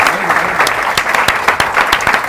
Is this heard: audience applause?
yes